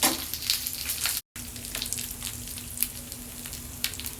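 Dried red chilies, green chilies and spices frying in hot oil in a pan, a steady close sizzle running throughout with a brief cut of silence partway and a few faint stirring clicks.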